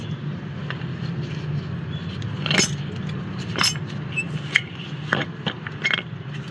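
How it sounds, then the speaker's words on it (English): Metal clinks and scrapes ring out as a brake caliper bracket is worked off the steering knuckle of a 2008 Kia Optima, several sharp taps and jingles over a low steady background hum. "I got those 17 millimeter bolts out that hold the caliper bracket to the steering knuckle here. So let's pull that off."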